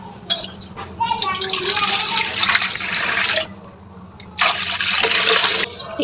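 Water pours into a pan on the stove, filling it for boiling pasta, in two long gushing bursts with a short pause between them, fairly close, while a voice talks quietly underneath.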